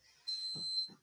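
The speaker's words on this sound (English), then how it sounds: "Alarm." A fire or smoke alarm gives a short high-pitched electronic beep, faint and brief, just before a live online COPD exercise class begins, with a soft low murmur underneath.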